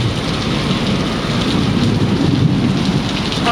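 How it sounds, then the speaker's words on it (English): Heavy tropical summer storm rain pours down steadily with dense drumming on surfaces, with a low rumble of thunder rolling underneath throughout, loud and close. "it's summer, but it definitely is a tropical storm"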